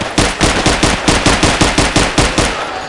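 Pistol gunfire in the video game Battlefield 3, a rapid run of about a dozen loud, evenly spaced shots firing in quick succession for three seconds.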